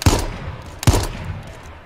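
Two loud, sharp gunshots from the video game H1Z1 battle royale, about a second apart, each with a short echoing tail, close and alone without talk.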